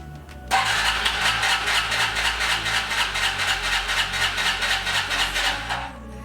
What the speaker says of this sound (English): start the scooter so you guys can actually see that it does start and then it's running fine